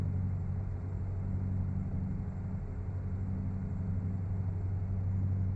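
The Night Train truck's engine in American Truck Simulator rumbles steadily at a constant low drone, loud and unbroken throughout, with no talking over it.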